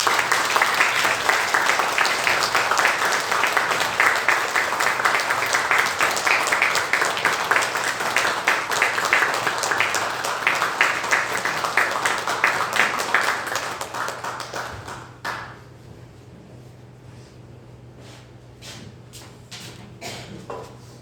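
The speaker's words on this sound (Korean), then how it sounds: "큰 박수로 모시겠습니다" Church congregation applauding to welcome a missionary, loud dense clapping sustained for about fifteen seconds, then tapering to a few scattered claps over low room hum.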